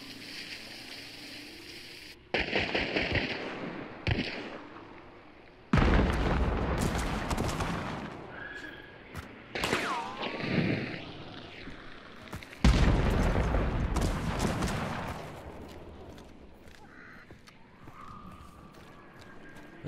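Video game combat with shotgun slugs brings several loud, close gunshots and booming explosions in bursts between quieter stretches, with some distant impacts.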